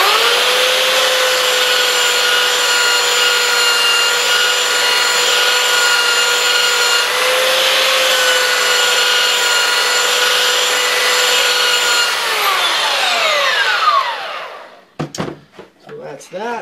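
Powered sander with 120 grit sandpaper smoothing a small carved wooden ribbon sign, a steady whining hum that holds for about twelve seconds and then winds down, followed by a few knocks and clatters.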